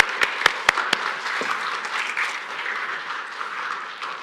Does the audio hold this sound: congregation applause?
yes